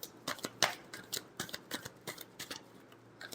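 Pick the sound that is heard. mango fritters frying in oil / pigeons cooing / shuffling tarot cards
shuffling tarot cards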